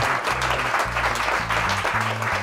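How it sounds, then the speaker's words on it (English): Short burst of clapping and applause layered over bouncy stepped music, loud and steady for a couple of seconds. "So give yourself a big round of applause."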